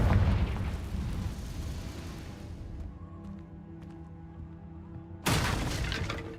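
A Confringo blasting spell exploding in Hogwarts Legacy, a loud booming burst that decays over a few seconds into a quieter rumbling tail, followed by a second sharp blast.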